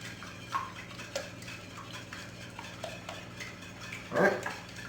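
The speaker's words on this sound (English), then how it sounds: "Whisk it up." A whisk beats half and half or heavy cream with eggs in a bowl for French toast, giving soft, irregular scraping and tapping strokes, fairly quiet, with a louder clatter near the end.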